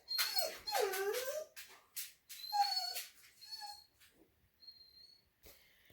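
A dog whimpers and yips in high, wavering whines, several closely spaced cries at first, then fainter, thinner whimpers trailing off, heard alone and close by indoors.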